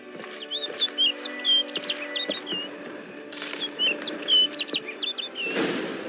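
A bird in The Witcher 3: Blood and Wine, chirping repeatedly in short bright tweets and rising calls over a steady low hum, ending with a burst of wing flapping.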